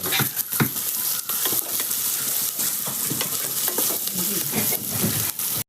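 Onions frying in oil in a pan on a home cooker, giving a steady, close sizzle with occasional stirring scrapes and clinks throughout, with no talk.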